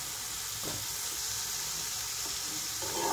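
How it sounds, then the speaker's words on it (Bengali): Eggplant and flat beans seasoned with turmeric fry in a pan over low heat, giving a soft, steady sizzle that runs unbroken from start to finish with no voices. "এবার এটা একটু ভাজা ভাজা হবে, আঁচ বাড়াবো না যাতে বেগুনটা শিমটা একটু সেদ্ধ হয়ে যায়।"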